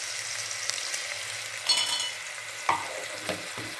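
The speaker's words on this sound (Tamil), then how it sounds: "இந்த மாதிரி வெங்காயம் வதங்கினோடனே இஞ்சி பூண்டு பேஸ்ட்டு போட்டுக்கோங்க" Onions frying with ginger garlic paste in a pan for a ridge gourd mutton curry, a soft steady sizzle with a few stirring scrapes and clinks, close by and with no talk.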